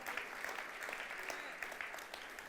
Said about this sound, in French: applaudissent le roi des rois